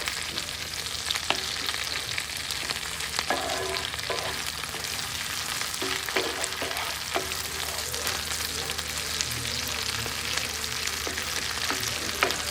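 Chorizo and onion fry in a pan with a constant close sizzle and crackle, punctuated by occasional scrapes and clicks of stirring, and no one speaking.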